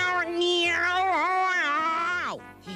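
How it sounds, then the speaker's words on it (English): A cartoon cat from a 1984 animated series gives one long, drawn-out, wavering meow that rises and falls in pitch, loud and close, with no talk over it. "You've been a bad cat, Heathcliff."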